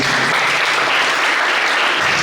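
Sustained applause from a crowd, dense steady clapping that stays loud throughout with no pauses.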